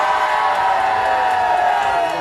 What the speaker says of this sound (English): How many of you are supporting Alan? Give me a cheer now